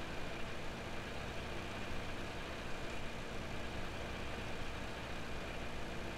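A tractor engine in Farming Simulator 17 hums at a steady idle, a dense, unchanging drone that fills the whole stretch without pauses.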